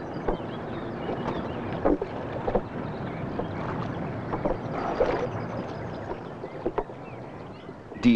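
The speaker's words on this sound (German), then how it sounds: "Die Schritte im Boot und das Aufklopfen der Bleikugeln beim Zurechtlegen des Maschengeflechtes haben hier die letzten Fische vertrieben." Footsteps thud in a wooden fishing boat on the Moselle while lead sinker weights knock as a mesh net is arranged, giving scattered irregular knocks over a steady outdoor wind background.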